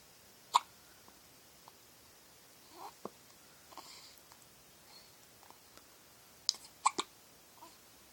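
A few short, sharp hiccups sound close by in a quiet room, spaced irregularly with a couple of quick doubled ones near the end and faint soft movement between them.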